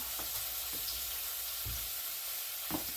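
Jalapeño peppers frying in hot oil for small-batch pickled jalapeños give a steady, quiet sizzle with a few soft stirring clinks, no talk.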